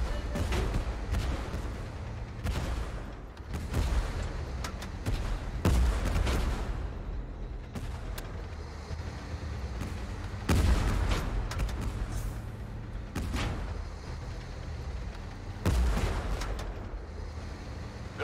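Video game battle with gunfire and artillery, dense rapid bursts of shots and heavy booms rolling continuously, with louder blasts punctuating the barrage.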